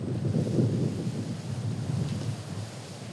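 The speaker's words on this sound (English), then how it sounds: "The wind's picking up a little bit during this round." Wind gusting across a golf course during a tournament round, a continuous low rumble and buffeting on the microphone with no clear pauses.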